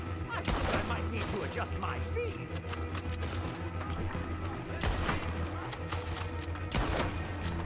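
Gunfire in Red Dead Redemption 2, scattered sharp shots and impacts over a rumbling game soundscape, with someone talking in between.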